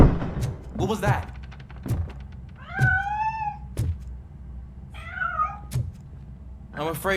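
Two clear meows from a cat in the RoboCop: Rogue City video game, rising and falling, stand out among heavy, regular footstep thuds, with a voice briefly heard at the start and end.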